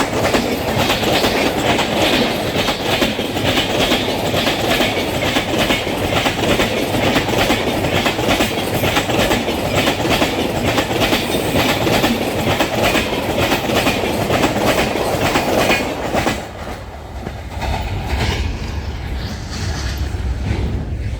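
A train passes close by on the track, a loud continuous rumble with rhythmic clickety-clack of wheels that lasts about sixteen seconds before dropping off to a quieter fading rumble.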